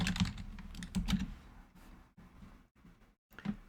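Fingers type on a computer keyboard during web coding work, producing quick bursts of close, crisp key clicks separated by brief pauses, with no speech.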